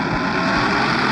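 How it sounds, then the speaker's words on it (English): A plane engine in the game Vehicle Legends drones steadily and loudly throughout the short stretch, a dense continuous roar with no pauses or talk. "Let's fly this plane over because it's faster."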